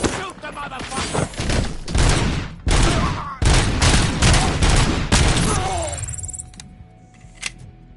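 Heavy gunfire from enemies in the RoboCop video game rattles in loud, dense bursts for about six seconds, then cuts out to quiet with a single late crack.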